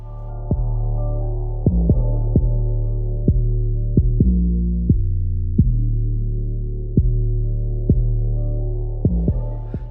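Electric hair clippers with a 1/4 guard and the lever fully open blend a high taper fade, a close steady buzzing hum that is briefly interrupted by regular clicks and thumps as the clipper is angled and moved.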